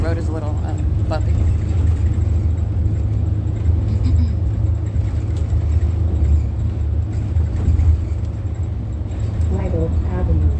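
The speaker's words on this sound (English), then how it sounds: "I'm on the bus and the road is a little bumpy" Inside a moving bus on a bumpy road, a steady low engine rumble and road noise run throughout while a person talks over it.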